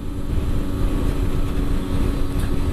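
A 125cc Yamaha TDR motorcycle accelerates on an open road, its engine a loud, rough low drone with steady revving and wind rush, heard from the rider's position.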